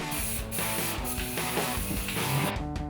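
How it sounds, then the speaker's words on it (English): An old brass chandelier in a hallway is spray painted, with bursts of aerosol hiss that stop and start in short spurts, close and clear. "spray paint the old brass chandelier in the hallway"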